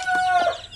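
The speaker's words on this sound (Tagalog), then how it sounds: "Pure basilan po ito na inahin." A pure Basilan breed mother hen gives a brief, close, clear cluck, a single short tonal call.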